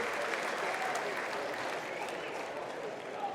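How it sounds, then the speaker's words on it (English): A college baseball stadium crowd at an Oregon State game applauds and cheers in a broad, steady wash of sound that eases off slightly toward the end, with voices faintly mixed in. "What I love is this crowd, the moment Trotsky stepped up to the plate, lost it, was excited for him"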